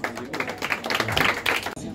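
Applause from the crowd at a Kongs FC MMA event in La Rochelle, a steady clatter of clapping mixed with a man announcing over a microphone throughout.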